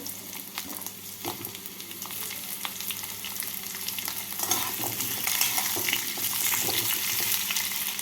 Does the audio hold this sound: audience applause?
no